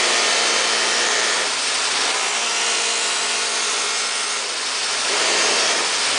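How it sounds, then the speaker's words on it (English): Stainless steel car trim pressed hard against a spinning buffing wheel for aggressive cutting and polishing, giving a loud, steady broadband whir and rubbing hiss that swells and dips slightly over six seconds, with no talk. "I'm polishing or cutting as aggressive as possible."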